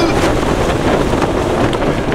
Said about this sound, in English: Wow, the wind is brutal, absolutely brutal.